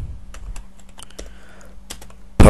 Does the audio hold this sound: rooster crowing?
no